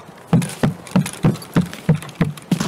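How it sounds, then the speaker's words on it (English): Footsteps in the shooter game Escape from Tarkov, a steady run of about eight evenly spaced, fairly loud thudding steps with no talk over them. "Footsteps on me."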